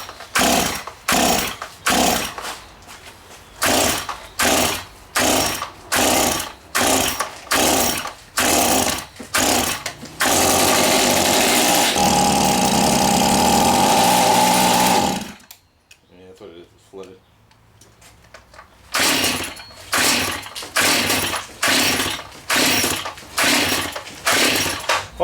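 A rebuilt, flooded Stihl chainsaw engine sputters and fires in a loud, close, rhythmic series of bursts, briefly holding a sustained run before dying and then resuming its stuttering pulses.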